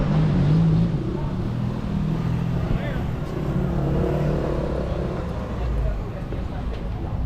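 Street traffic with tuk-tuks and cars in Phuket, a steady rumble of engines passing and revving nearby while people talk over it.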